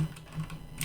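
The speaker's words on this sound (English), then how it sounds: "let's just type in" Brief burst of computer keyboard typing, a few light clicks while entering a field label in a website form editor, quiet and close with no talk.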